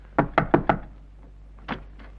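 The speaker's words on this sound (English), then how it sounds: "A good idea to knock first." Someone knocks on a door in a doctor's office or hospital setting in a 1939 film: four quick, crisp raps close by, then a pause and one more knock.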